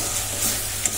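Spice paste for aloo dum sautéing in a pan, a loud close sizzle with light stirring scrapes and one sharper clink near the end.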